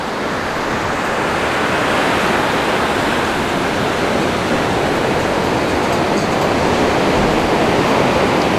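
Waves break continuously on Arambol Beach in Goa, a dense, steady wash of surf close by, with no voices heard.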